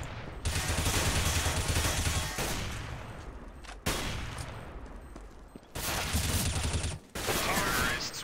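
Gunfire in the video game CS:GO on a custom map, several bursts of dense rapid shots separated by short gaps, fairly quiet and with no one talking over them.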